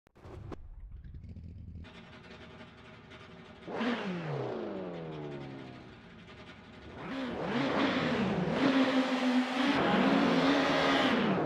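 Race cars in a racing video game at Circuit de Pau, engines revving and rising in pitch as cars accelerate and pass, growing to a loud, sustained multi-car roar by the end.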